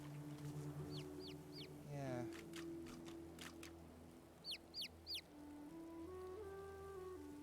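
A chicken in the game Divinity: Original Sin 2 makes short, rising chirps in two groups of three, heard over steady background music with a soft tone sweep between them.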